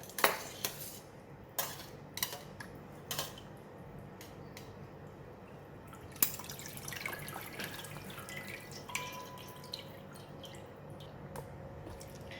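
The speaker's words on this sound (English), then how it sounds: "now I'm going to take it out from the cold water" Scattered drips and light clinks from a sink as blanched water spinach is lifted out of cold water, with quiet trickling between the taps.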